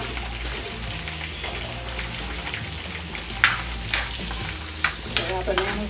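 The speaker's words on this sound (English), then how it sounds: "Stir our bananas in there, like that." Bananas being stirred into a banana pudding: a steady, soft wet churning texture, with a few sharper clicks and scrapes from the spoon toward the end.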